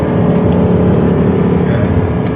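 An Audi R8's engine on a race track at steady throttle, a loud, continuous droning roar from inside the car with no breaks or talking.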